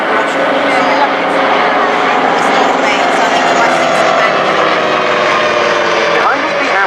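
A 1941 de Havilland Dragon Rapide biplane, built as a Dominie, drones past at a Duxford VE Day airshow with a loud, continuous piston-engine and propeller hum as a commentator talks over it.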